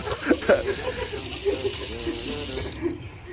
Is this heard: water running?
yes